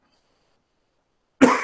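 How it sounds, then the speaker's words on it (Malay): A single short, sharp cough arrives after a stretch of silence, close and fairly loud, during a statistics lecture. "Ni cakap-cakap banyak ni, batuk tu datang balik."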